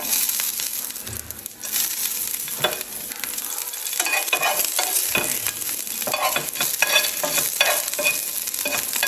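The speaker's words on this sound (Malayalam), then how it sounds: "കുറച്ച് ജീരകം ഇട്ട് കൊടുത്തിട്ടുണ്ട്. പിന്നെ അതിലേക്ക് ഒരു പച്ചമുളക് ചോപ്പ് ചെയ്തിട്ട് കൊടുക്കുക." Cumin seeds and chopped green chili fry in a pan with a loud, continuous sizzle, overlaid by repeated scraping stirs and crackles close by, without speech.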